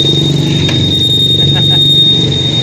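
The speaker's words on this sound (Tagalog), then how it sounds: "Uy, nag-alarm na ako natandog." A Honda Click scooter's anti-theft alarm squeals in one steady, piercing high tone that runs unbroken while someone talks over it.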